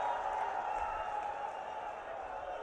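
A crowd at a BJP election rally in Churu for Prime Minister Modi keeps up continuous applause, a thick, fairly distant wash of clapping that stays even throughout.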